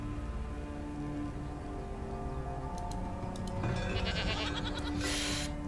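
Goats bleating around a goat barn in the video game Farthest Frontier, a few short calls over a steady ambient game bed, with brighter, busier bleats toward the end.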